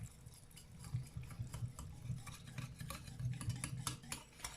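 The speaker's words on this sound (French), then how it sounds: "Et je mélange." A spoon stirs cornstarch into veal stew inside a Cookeo, scraping and clinking softly against the pot in a steady rhythm, quiet and close.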